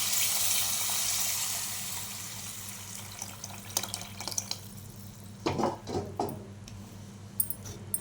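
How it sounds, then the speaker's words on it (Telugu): Prepared tamarind broth poured into a pan for fish curry, a steady liquid rush that gives way to a few sloshing splashes and drips near the end, close and fairly loud with no talk. "చక్కగా ముందే కలిపి రెడీ చేసి పెట్టుకున్న పులుసు పోసేస్తాను"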